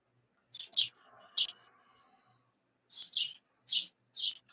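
Small birds chirp in bright, short bursts, several distinct calls spaced apart, fairly clear against a quiet background with faint low noise.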